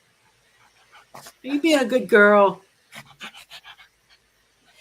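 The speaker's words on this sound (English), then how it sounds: "You can hear her like barking." A hyped-up pet dog named Luna, panting and letting out short yips and barks close by while someone talks to her in a sing-song voice.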